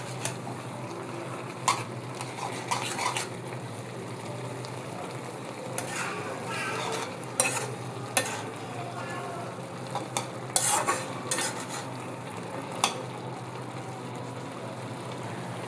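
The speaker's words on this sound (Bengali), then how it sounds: "এখন আমি একটু নেড়ে নেব।" Lentils with cumin and ground spices stirred in a frying pan, a steady sizzle with intermittent scraping and clinks of a spoon against the pan, close and continuous.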